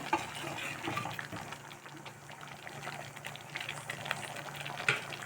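A steady bubbling simmer of a pot of chayote (chow chow) curry with coriander on the stove, continuous and close, with small pops and crackles scattered throughout and no voices.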